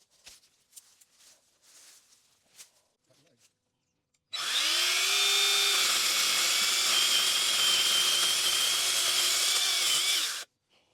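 A chainsaw cuts into a shrub during spring garden pruning, a loud, sustained, high whining buzz that starts abruptly after a few quiet rustles and clicks, holds steady for about six seconds, then cuts off.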